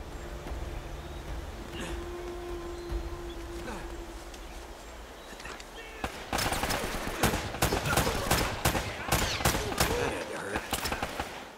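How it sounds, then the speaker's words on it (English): Enemy gunfire in Uncharted: Drake's Fortune, a burst of sharp, repeated shots cracking in loud clusters during the second half, after a quieter stretch of ambient game background. "Oh man, they're shooting at me."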